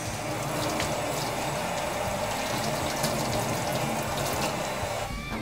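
A ThruNite TC12 USB-rechargeable flashlight is swished and rinsed in water, giving a steady, close, continuous splashing and sloshing for several seconds with no talk over it.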